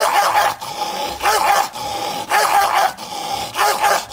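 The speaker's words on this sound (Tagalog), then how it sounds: "Maraming aso dito." Several dogs bark and growl in repeated loud bursts, about four close bouts separated by brief pauses.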